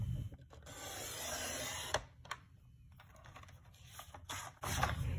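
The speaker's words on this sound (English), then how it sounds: "I'm going to push it out of the way so I can use my darker blade to cut." A paper trimmer blade slices through cardstock, a close, quiet scraping rasp running for about a second, followed by softer handling rustles and a final sharper swipe near the end.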